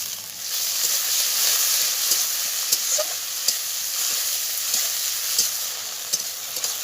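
Chopped onion and tomato frying in hot oil with whole garam masala and cumin, a steady close sizzle with scattered pops and stirring clicks throughout, no talking.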